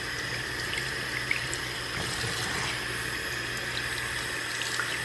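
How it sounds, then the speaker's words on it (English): Running water gently rinses conditioner out of hair extensions, a steady close stream with faint splashes and trickles, and no talking. "So I'm just rinsing this out gently, starting from the top and working my way down."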